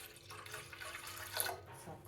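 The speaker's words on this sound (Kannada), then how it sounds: "ಇನ್ನೊಂದು ಸ್ವಲ್ಪ ನೀರು ಹಾಕ್ಕೊಳ್ಳೋಣ." Water poured into panaka, a jaggery drink, for a Rama Navami festival, a faint trickling splash that swells briefly midway with a quiet room behind.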